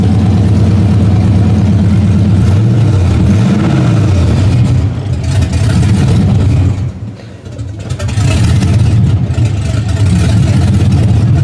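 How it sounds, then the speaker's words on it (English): A Chevrolet LS1 V8 swapped into a 1996 Impala SS idles loudly up close, a deep steady burble with a short dip in level partway through before it settles back. "And now it's idling on its own."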